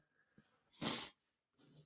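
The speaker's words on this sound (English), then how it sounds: "I'm sorry about the sniffles." A single wet sniffle from someone with a cold, a short breathy burst of air drawn through the nose, close and faint, followed by a softer second intake.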